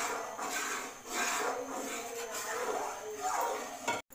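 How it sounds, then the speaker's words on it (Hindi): A spoon scrapes and rubs steadily through suji halwa in a pan over low heat, a continuous close scraping texture with brief pauses, ending abruptly. "और चम्मच जो है वो आपने इसको चलाते रहना है।"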